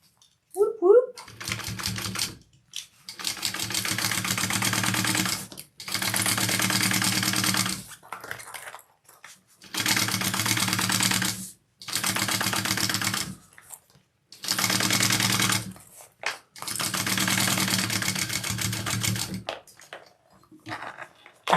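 A sewing machine bastes a sling bag in a series of about seven rapid stitching bursts, each lasting a second or two, separated by short pauses, close and clear.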